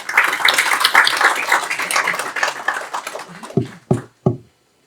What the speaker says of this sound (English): So I think we all deserve a warm round of applause for all of us coming together.